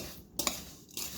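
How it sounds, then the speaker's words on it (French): A spoon scrapes and stirs crushed palets bretons biscuits for a strawberry tart base in a bowl, giving a few short, faint clinks and scrapes spaced roughly half a second apart. "On mélange bien."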